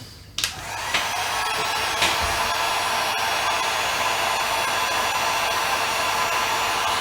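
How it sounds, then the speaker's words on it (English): A heat gun blows steadily while drying a refinished wooden gun stock, a loud continuous airy roar after a few brief clicks and knocks at the start. "That's all you do, is just hit it with the heat gun again."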